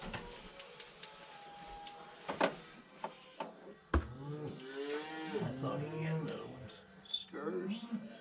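Cattle lowing in a spring pasture with working bulls and cows, several drawn-out moos of varying pitch from nearby animals, the loudest calls in the middle, with people talking over parts of it.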